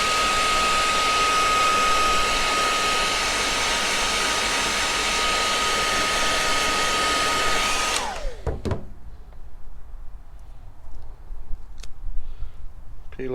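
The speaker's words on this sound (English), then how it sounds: "So hairdryer." A hair dryer blows a loud, steady whirring stream while heating an LED high-level mirror indicator mount on a Honda Deauville 650 motorcycle, then switches off and winds down, leaving faint handling noises.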